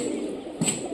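Rajshahi Giribaz pigeons give a faint, brief coo over a low background hum, a short soft call standing out near the end.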